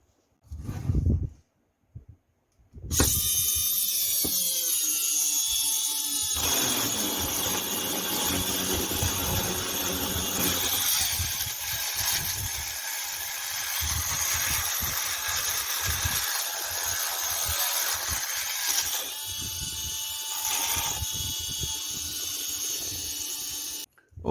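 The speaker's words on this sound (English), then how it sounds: "the noise level coming from the motor" After a couple of brief knocks, the motor and gears of a homemade RC-servo-driven heavy-duty display stand power up into a loud, steady whine and grinding drone. The noise carries on close and continuous, with shifting tones, for about twenty seconds.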